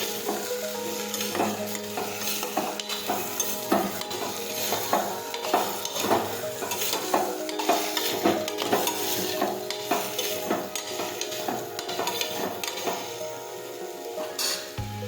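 Guvar (cluster beans) and potatoes sizzle in a pan for curry while a spoon stirs them, with repeated clinks and scrapes against the metal over a constant frying hiss.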